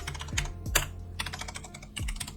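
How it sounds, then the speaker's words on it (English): An address being typed on a computer keyboard, rapid bursts of close, crisp key clicks with brief pauses between groups, heard alone without talk. "So I've started typing it in and it comes up, and I'll just click it."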